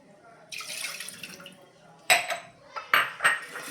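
Two bowls of water poured into daliya in a pressure cooker, a steady splashing pour followed by a few clattering knocks of bowl and pot, close and clear.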